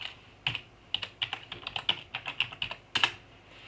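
Someone types a command on a computer keyboard, a quick run of crisp, close key clicks in an irregular rhythm, ending with a louder double tap like the Enter key, with no talking.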